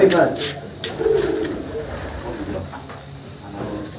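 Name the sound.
pigeons cooing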